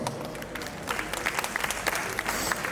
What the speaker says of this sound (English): Audience, let's welcome her with a huge round of applause.